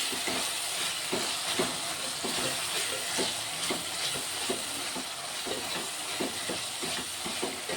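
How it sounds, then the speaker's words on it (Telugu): Ridge gourd pieces fry in a pan with a steady, close sizzle and hiss, broken by soft scraping stirs of a spoon. "బీరకాయలు అయితే మంచి ఫ్రై అయిపోతున్నాయి."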